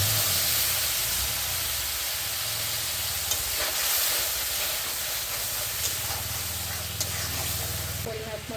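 A ginger, cumin and green chilli paste goes into a pan of curry with tomatoes, giving a loud, steady sizzle and hiss with faint stirring scrapes, while someone talks over it.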